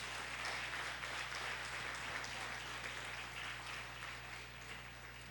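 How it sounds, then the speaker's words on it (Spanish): A church congregation claps through a family worship service, a steady, soft wash of applause over a constant low electrical hum, sustained evenly from start to finish. "dale un aplauso al Espíritu Santo de Dios"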